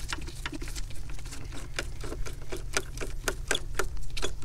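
A screw being loosened on the stand of an HP 24 F0028 touch LCD monitor gives a steady series of small, close clicks and ticks, like a ratcheting screwdriver, over a low constant hum.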